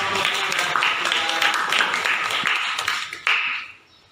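Classroom applause from students for a presenting group, a thick, busy clatter of hands with a few voices mixed in, running evenly before a final burst and a quick fade to quiet.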